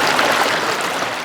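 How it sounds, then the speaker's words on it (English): Floodwater pumped by generators out of homes rushes steadily back into a creek, a continuous close hiss and splash of flowing water with no breaks. "Generators are now pumping water out of homes and back into the creek"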